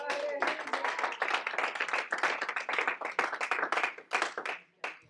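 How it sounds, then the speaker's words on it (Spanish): Sustained clapping from a church congregation, many hands beating in a dense, steady patter for about five seconds before tapering off, with faint voices mixed in. "Un aplauso a Cristo."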